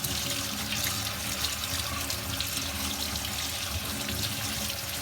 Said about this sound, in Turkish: Şimdi bu ayıklamış olduğumuz üzümlerimizi şöyle güzelce bol suyun altında yıkayalım.